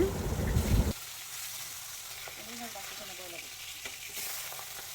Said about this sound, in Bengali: এখানে পাবদা মাছ ভেজে নিচ্ছে